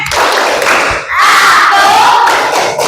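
A group of children shouts a loud unison clapping chant, tepuk anak soleh, in a classroom, voices dense and continuous with a brief dip midway.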